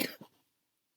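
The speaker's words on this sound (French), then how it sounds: "j'ai mangé du miel de Savoie et je tousse" A single short human cough, a sharp double burst close to the microphone followed by silence.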